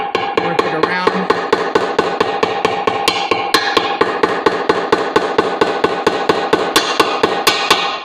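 A small hammer taps a Harley-Davidson inner primary seal into place, a rapid steady run of sharp close strikes, a few ringing more metallically, with no talk.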